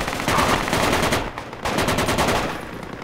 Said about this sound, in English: I'm still getting shots.